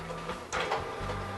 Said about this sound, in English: I didn't realize my printer was so loud.